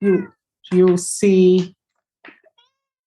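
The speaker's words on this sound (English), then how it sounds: "Sorry, that's my cat" A house cat meows several times close by, drawn-out, whiny calls in quick succession, followed by a brief faint vocal trailing off; a person speaks a couple of words near the end.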